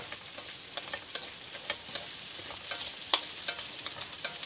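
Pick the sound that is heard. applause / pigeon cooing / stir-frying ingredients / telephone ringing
stir-frying ingredients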